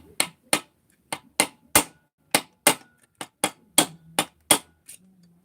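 Sharp metallic hammer blows drive a seal into an Alfa Romeo 288 starter, about a dozen close, crisp strikes in an uneven rhythm with short pauses between.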